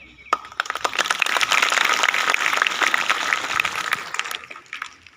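Students in a school assembly give a big round of applause for a team that has just presented a skit, steady, crowded clapping that swells quickly and holds for several seconds before fading.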